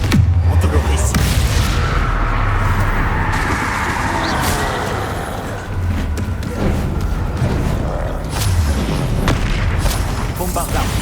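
Spell explosions from the Hogwarts Legacy video game boom and bang in a dense, continuous barrage, loud and close, with deep rumbling impacts layered over one another and no pause throughout.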